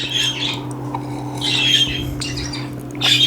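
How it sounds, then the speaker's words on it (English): Birds squawk in short, bright bursts at intervals over a steady low hum, fairly close. "I hear the birds are waking up."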